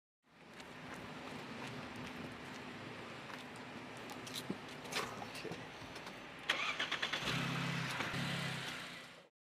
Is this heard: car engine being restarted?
yes